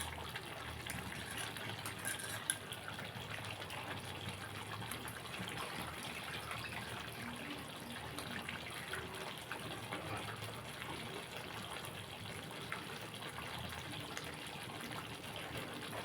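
Tamarind extract pours into a prawn and taro curry, a steady liquid gushing and splashing that runs evenly and close for the whole stretch, with no voices.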